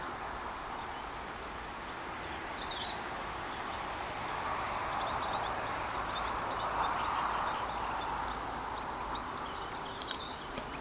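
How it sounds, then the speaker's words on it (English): Faint birds chirp and call intermittently in the distance over a soft, steady outdoor hiss, with no one speaking. "Can you hear those birds?"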